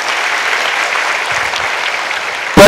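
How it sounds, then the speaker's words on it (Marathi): Kirtan audience breaks into sustained applause for the cook, a thick, even wash of clapping from a large crowd with a couple of low thumps, cut off by a sharp burst at the very end. "त्या आचार्याकरता सुद्धा टाळ्या व्हायला पाहिजे."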